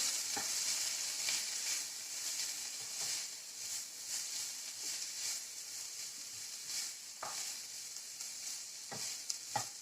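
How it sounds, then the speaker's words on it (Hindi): Onion and capsicum fry steadily in a pan, a continuous close sizzle with scattered clicks of stirring and no voices over the full length. "प्याज और साथ ही हम इसमें शिमला मिर्च डाल देंगे। दोनों को हम थोड़ा सा फ्राई करेंगे।"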